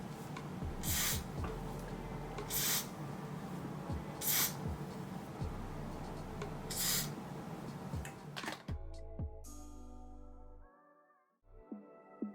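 Several quick bursts of spray are applied to wig lace at close range, separated by short pauses, followed by a few quiet handling sounds.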